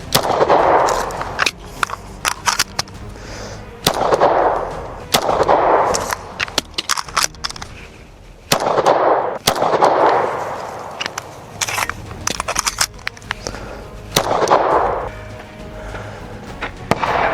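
Star 30M pistol fired at target practice, sharp gunshots in quick strings separated by short pauses, loud and close, with clattering and handling noises between the bursts.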